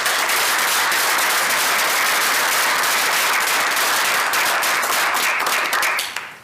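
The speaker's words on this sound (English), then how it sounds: "please join me in a round of applause for our former board members" Steady, full applause from the attendees of a monthly community board meeting for former board members, crowded and continuous before tapering off abruptly at the very end.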